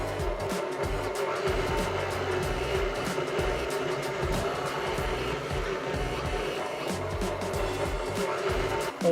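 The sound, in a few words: mixer turning at low speed, sanding butter into flour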